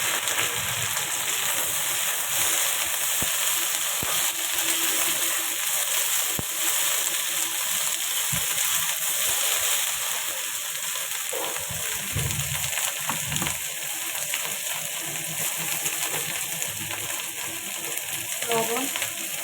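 Chopped okra frying in a hot pan for a bhindi chutney, a steady loud sizzle and crackle throughout with occasional stirring scrapes, no talking.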